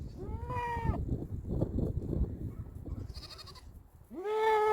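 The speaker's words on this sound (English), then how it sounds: "we haven't been out to see the goats or Pedro for a little while." Goats on a homestead bleat in several loud, wavering calls, one at the start and a longer one at the end, with rustling and shuffling between them.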